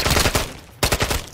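Rapid bursts of automatic gunfire from Call of Duty Modern Warfare 3 Zombies, loud and close, two short volleys split by a brief pause.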